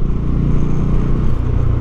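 2024 Bajaj Dominar UG2 motorcycle engine running steadily nearby, a loud, even low-pitched throb with a regular pulsing rumble throughout.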